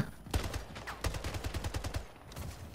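Rapid gunfire in the Splitgate video game, a burst of sharp repeated shots in quick rhythm, fairly close, with no talking.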